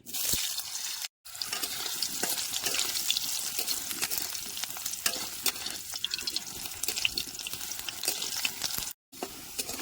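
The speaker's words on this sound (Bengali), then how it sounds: "এবার আলুগুলো দিয়ে ভাজে নেবো" Steady, close sizzling and crackling of food frying in hot oil, with brief breaks and occasional stirring clatter.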